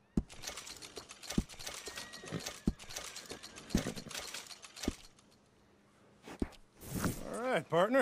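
Hooves of a horse clip-clop in a steady walking rhythm in Red Dead Redemption 2. The sharp, fairly close thuds are mixed with game ambience and a short, whinny-like sound near the end.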